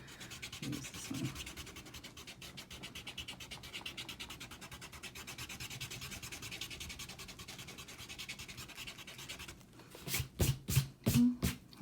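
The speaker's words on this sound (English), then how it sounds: "if we were to erase it, where's my big eraser? Use this one." A large rubber eraser rubs pencil off paper in quick back-and-forth scrubbing strokes, close and steady, followed by a few sharper brushing swipes at the end.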